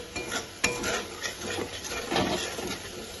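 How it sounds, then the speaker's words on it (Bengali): Spice paste stirred and fried in a pan while cooking Bengali doi potol, heard as a light sizzle under repeated spoon scrapes and occasional clinks against the metal. "এবার কিছুক্ষণ নাড়াচাড়া করে আবার মশলাটা ভেজে নেব।"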